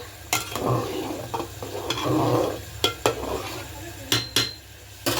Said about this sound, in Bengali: ওই মশলাটাই দিয়ে দিচ্ছি খিচুড়ির এইটার মধ্যে এবার নেড়ে দেব